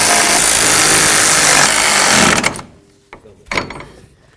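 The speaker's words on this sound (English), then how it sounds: "Start all of your nuts, snug them up." A power tool runs hard and continuously while tightening front strut nuts on a 2007-2017 Ford Expedition, a loud, close mechanical roar that cuts off abruptly and leaves a few light clanks and taps of handling.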